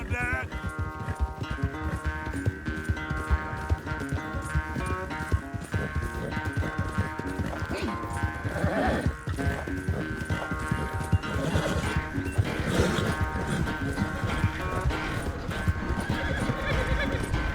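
Horses gallop in Red Dead Redemption 2, with quick, steady hoof clip-clops and occasional whinnies carried under a constant orchestral game score.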